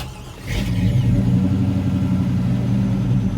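A 2000 Chevy S10 resto-mod with an LT1 V8 and six-speed fires up after a brief crank, then settles into a loud, steady, lumpy rumble at close range.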